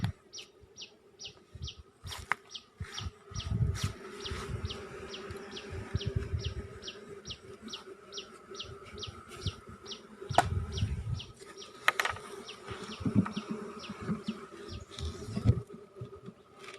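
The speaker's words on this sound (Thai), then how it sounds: "ผึ้งเยอะมากเลยค่ะ" Honey bees swarm around a newly built hive at a Thai beekeeping site, their buzzing rising and fading in low bursts near the listener. A quick, regular chirping repeats steadily above them.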